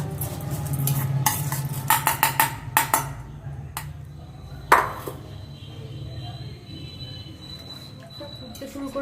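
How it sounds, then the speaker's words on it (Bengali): Soaked rice being stirred in a pot on a village stove, a run of quick clinking scrapes of spoon against metal followed by a louder knock, then a low simmering background. "এখন আমি যে চালটা মাখিয়ে রেখেছিলাম সেই চালটা একটু নাড়িয়ে দেব।"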